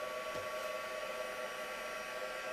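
A heat embossing tool blows hot air in a steady, even whoosh, close and constant with no pauses, used on a small thumb-sized piece of craftwork.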